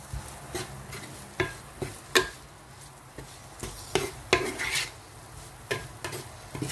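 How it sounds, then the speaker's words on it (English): Boiled pasta stirred into a frying pan of sauce while making a creamy oven pasta, with repeated close scrapes and clinks of a utensil against the pan over a low background sizzle. "So I finished my frying, so I add my pasta now."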